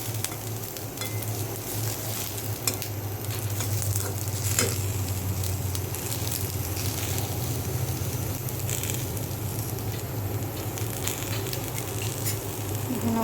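Onion frying in mustard oil in a pan, a steady close sizzle with soft crackles and occasional stirring clinks running throughout, no one talking.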